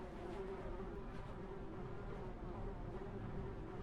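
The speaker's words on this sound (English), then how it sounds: "I hear the incessant buzzing of flies" Flies buzz incessantly around a boarded-up white house in a dark text-based video game, a faint, continuous low drone that holds steady without breaks.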